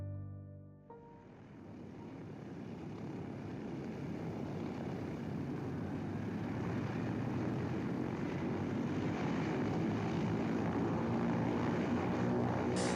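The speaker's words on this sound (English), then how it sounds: "The converted Halifax bomber cut through the darkness over occupied France, like a knife through black silk." Converted Halifax bomber, a propeller aircraft, flying at night over occupied France: a steady droning engine and propeller roar that swells in slowly after a brief quiet start and holds loud and constant.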